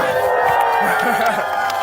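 A live street audience at a freestyle rap performance in Berlin cheers and whoops after the rapper's closing line. The crowd noise is steady and fairly loud, mixed with babble.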